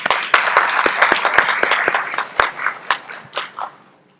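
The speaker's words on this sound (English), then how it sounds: "please give them all a round of applause for doing that" Audience applause for undergraduate students at a fall research proposal symposium, a dense wash of many hands clapping with sharp individual claps standing out, sustained then thinning and fading away.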